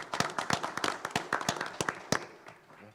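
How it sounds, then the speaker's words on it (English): Applause at a city commission meeting in San Juan: a small group claps close by, with sharp, uneven individual claps over about three seconds that thin out toward the end. "let's give yourselves a big round of applause for all the great work."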